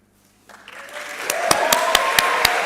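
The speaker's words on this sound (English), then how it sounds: "please rise so we can give you a proper applause" Applause for award winners at a master's graduation ceremony swells quickly from near silence into steady crowd clapping, with a few sharp, close individual claps standing out over the rest.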